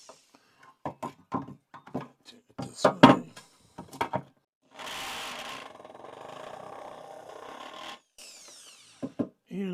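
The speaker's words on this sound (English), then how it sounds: "I'm also going to go ahead and drill out this, do my last drill" A power drill whirs steadily for a few seconds after scattered knocks and taps, with another shorter burst of drilling following.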